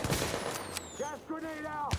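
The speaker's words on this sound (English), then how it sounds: "Gas grenade going off" A gas grenade detonates in a video game, bursting in loud and close with a harsh crack and fizzing hiss that trail off, followed by a short second burst near the end, with faint voices in between.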